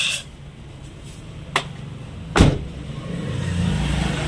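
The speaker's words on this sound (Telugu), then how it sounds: "దీని లేటెస్ట్ వర్షన్ పక్కన ఆగింది చూడండి. కొత్త స్కార్పియో" A new Mahindra Scorpio idles and rolls up alongside, its low engine rumble steady under road noise, broken by two sharp nearby clunks like a door or window.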